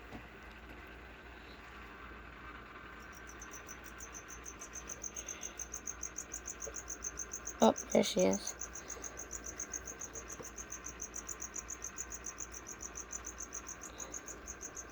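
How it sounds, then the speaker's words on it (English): Crickets chirp at night in a steady pulsing trill that carries on throughout, with a brief louder clatter midway and a voice speaking once. "Those crickets are so annoying."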